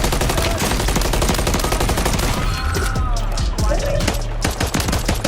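Dense, rapid gunfire from a video game, loud and continuous with overlapping bursts and a steady low rumble throughout.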